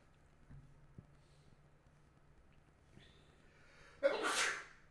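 A single sharp sneeze bursts out near the end after a few quiet seconds of faint background noise.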